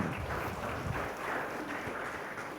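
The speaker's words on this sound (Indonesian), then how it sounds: "Berikan tepuk tangan meriah buat Tuhan kita." Congregation at an online Sunday worship service claps loudly and steadily in praise, a dense continuous burst of applause filling the room.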